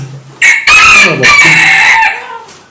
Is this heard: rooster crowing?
yes